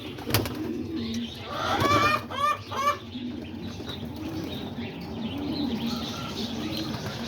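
Pigeons in a loft coo and stir, with a burst of flapping wings near the start and soft, continuous cooing and rustling throughout.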